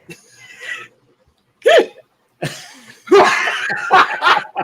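A few short belches from a guest on a casual talk show, isolated bursts with pauses between them, followed by laughter and chatter.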